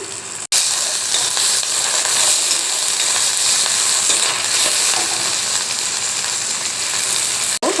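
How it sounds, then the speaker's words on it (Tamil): Onions fry in oil in a pan for a sundakkai kuzhambu, producing a loud, dense and steady sizzle that fills the whole stretch, with a brief cut near the start and end. "வெங்காயம் வணங்குறதுக்கு எண்ணெய் கொஞ்சம் ஊற்றிக்கலாம்"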